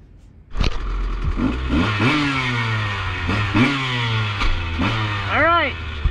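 A Husqvarna dirt bike at a motocross track cold starts with a sudden catch, then revs in repeated rising and falling bursts. The loud, close engine runs rough and uneven, and talking can be heard over it.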